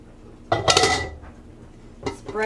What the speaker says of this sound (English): We're just going to put this in our cake pan.